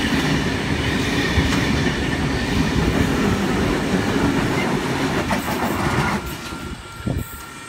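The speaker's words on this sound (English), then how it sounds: "Coming through, we've got a V set coming through" V set train V47 passing through Wondabyne station in New South Wales, a loud continuous rolling roar with rhythmic wheel clatter, close and sustained before easing slightly at the end.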